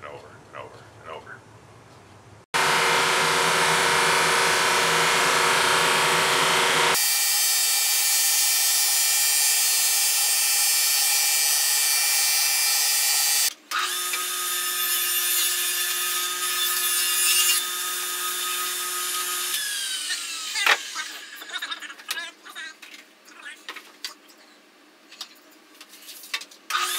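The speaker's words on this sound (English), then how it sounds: "Start sanding and working that high point down" Sanding a walnut veneer lamp, with long stretches of steady, loud abrasive rasping that shift in tone between passes before turning into lighter, intermittent scraping near the end.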